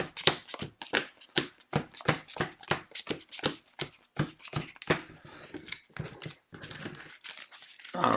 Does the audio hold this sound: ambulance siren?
no